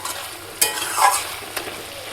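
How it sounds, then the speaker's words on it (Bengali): A spice paste with ground poppy seeds sautés in a pan, a soft, continuous sizzle punctuated by two sharp scrapes of a spoon against metal and a short bubbling burst. "পোস্ত দিয়ে সমস্ত মশলা দিয়ে খুব সুন্দরভাবে মশলাটা কষিয়ে নিয়েছি"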